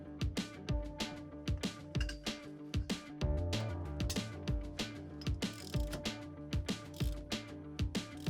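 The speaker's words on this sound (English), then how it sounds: "I'm going to use a breaker bar and a jack handle to remove this bolt." A breaker bar with a jack handle for extra leverage works a very tight torque-to-yield bolt on the rear wheel bearing of a 2010-2014 VW MK6 GTI, giving steady repeated metallic clicks and ratcheting clatter, close and loud with no talking.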